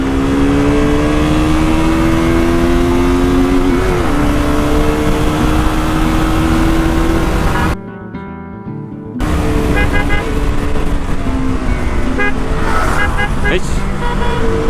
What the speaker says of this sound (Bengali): এখন রেস হবে এমটি, জিএসএক্সআর